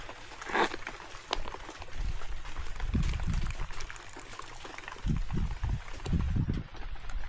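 Rehydrated freeze-dried chicken soup poured from its pouch into a cup on a backpacking trip: a close, continuous liquid pour with gurgling, splashy surges over a few seconds.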